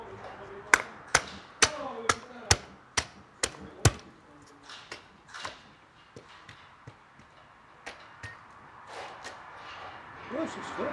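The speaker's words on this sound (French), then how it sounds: "Petit coup de marteau." A hammer strikes lightly during a timing belt change on a 1.9 TDI engine: eight crisp, evenly spaced metallic taps in quick succession, followed by scattered softer knocks and clatter in a workshop.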